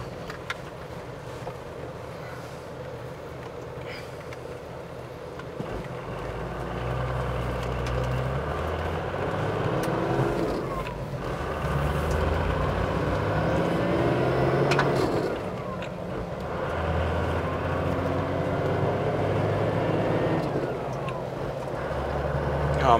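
A Toyota 60 Series with a 12HT engine, its gearbox freshly rebuilt, drives along with a steady low engine drone and road rumble from inside the cab, rising and easing through gear changes.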